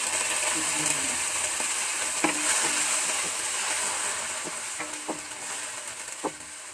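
Onion and sardines sauté in a hot pan as part of a sotanghon dish, giving a steady sizzle and hiss. A few soft clinks from stirring break through now and then.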